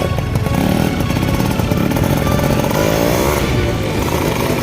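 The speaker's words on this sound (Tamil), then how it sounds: "இப்போ நம்ம வந்து வண்டி டெஸ்ட் ட்ரைவ் தாங்க பண்ண போகிறோம்" A modified Yamaha RX135 motorcycle rides at full power, its two-stroke engine buzzing loud and close in a steady raspy drone, with no talk.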